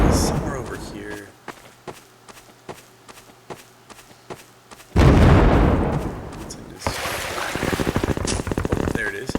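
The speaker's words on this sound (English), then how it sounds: "there's some cannons and firing and stuff" Cannons fire in a video game level as a series of sharp, evenly spaced thumps, then a loud blast and sustained rumbling bursts, with a person talking over parts of it.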